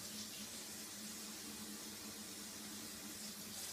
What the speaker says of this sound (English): We'll just dump some water